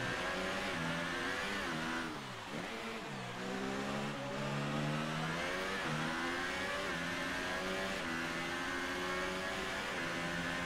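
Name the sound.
Ferrari F1 car engine in racing video game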